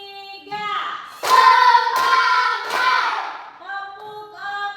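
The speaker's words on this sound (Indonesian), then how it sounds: "Tepuk 3." A class of children claps together in rhythmic bursts, three sharp group claps spaced about a second apart, with young voices speaking before and after.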